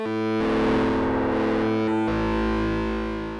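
Distorted, harmonically rich synth tone from a Native Instruments FM8 run through its reverb effect, sustained tones changing at about two seconds and ringing out with a smeared tail, loud and alone.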